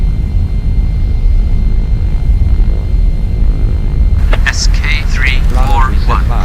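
Aircraft engines in the EuroFly3 flight simulator game drone loudly and steadily during a takeoff roll, with radio-style speech joining partway through over the continuous engine noise.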